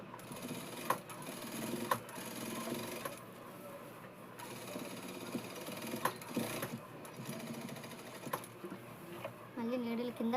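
A sewing machine stitches a Punjabi dress, its needle mechanism giving a soft rapid clatter in short bursts with brief pauses and sharp clicks, fairly quiet and close, while someone talks over it.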